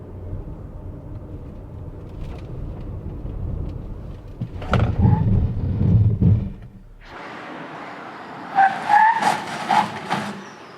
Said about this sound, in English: now it is time for a braking test with the Creta